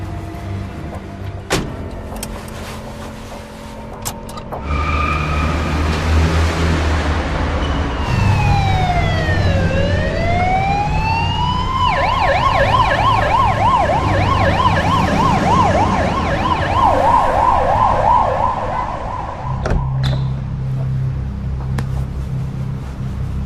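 An ambulance siren, loud and close, wails in long falling-and-rising sweeps before switching to a rapid yelping warble over low vehicle hum, then cuts off, leaving engine rumble.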